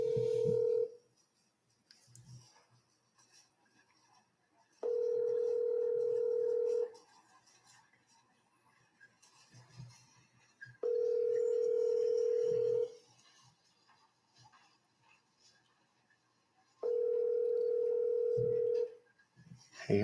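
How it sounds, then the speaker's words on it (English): A telephone call is placed over and over: bursts of keypad dialing tones, then three long, loud, steady tones about two seconds each, spaced several seconds apart, with faint background noise between them and no clear talk. "We're going to keep calling until we get Steve."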